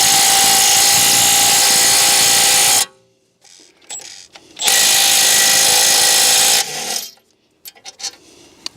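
A power tool rattles and whines loudly in two long bursts while removing the caliper bracket bolts on a BMW E90 brake, with quiet clinks and handling noises between the bursts.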